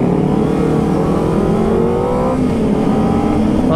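A Kawasaki Ninja ZX-25R motorcycle with a stock exhaust revs up loud and close, its engine note held steady with rising harmonics for several seconds, no talking.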